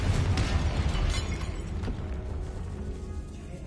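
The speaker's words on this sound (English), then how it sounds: "If this archway's been barricaded, we can find a way through. Confringo!" Video game blasting spell bursting open a barricaded archway in a tomb: a sharp burst at the start followed by a rumbling, crumbling decay that tapers off over a few seconds.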